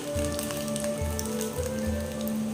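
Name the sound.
fish roe fritters frying in oil on low gas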